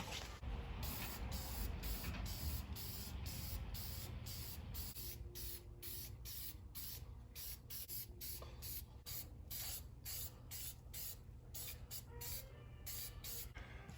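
Spray paint laid on as a coat over a Trail Gear fluid carrier, sputtering and strained, a continuous hiss broken into rapid spurts, close and steady with no voices.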